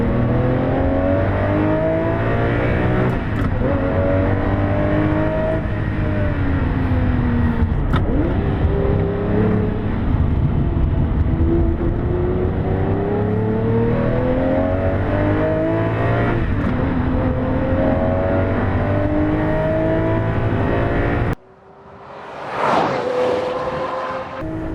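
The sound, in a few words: race car accelerating hard out of corner at Sandown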